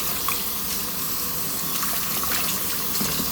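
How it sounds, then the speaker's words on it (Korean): Godeulppaegi greens being rinsed under a running kitchen tap, a steady close rush of water with faint splashes and handling noises, no talk. "흐르는 물에 깨끗하게 씻어주세요."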